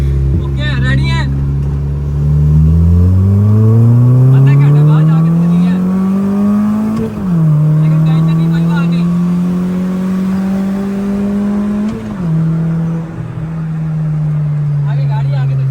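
Suzuki and Toyota Grande 1.8 cars racing side by side, with engines droning and rising in pitch as they accelerate, then dipping twice at gear changes before holding steady, loud and close throughout. Someone talks over the engines.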